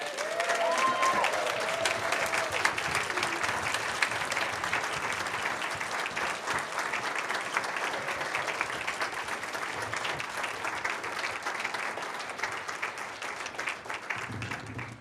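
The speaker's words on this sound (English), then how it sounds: "So could we please give a nice round of applause for the faculty?" A concert audience at a music anniversary celebration gives a sustained round of applause, steady, even clapping from many hands lasting around fifteen seconds, fairly distant and roomy, with a brief voice at the start.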